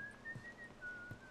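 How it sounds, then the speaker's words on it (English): A faint, thin whistled tone in The Last of Us video game, held and wavering through a quiet, low background rumble, distant-sounding with no voices. "Who's whistling?"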